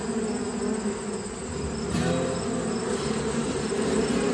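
Honeybees buzz in an opened hive split with newly hatched virgin queens, a steady, fairly soft drone that continues without a break and without any talk.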